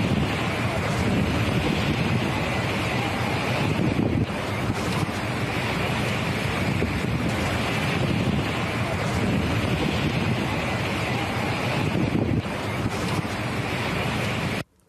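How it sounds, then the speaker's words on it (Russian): Strong wind gusts high up at bridge height, a loud, continuous buffeting roar with surging peaks that pounds the microphone throughout and cuts out abruptly at the very end. "порывы ветра на таких высотах могут достигать 40 метров в секунду"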